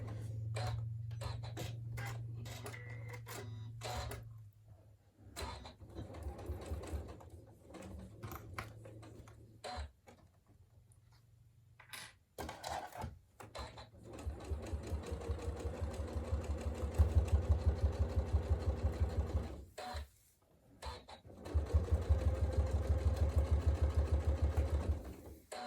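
A sewing machine stitches through thick layers of wadding for a workshop bag, running in steady mechanical bursts with short pauses between runs, loud and close with no talk.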